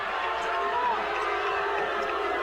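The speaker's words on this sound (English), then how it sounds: "And the crowd doesn't like it." A basketball crowd in a gym grumbles and jeers in displeasure at a foul called against a player during a men's college game, a steady loud murmur of many voices filling the hall.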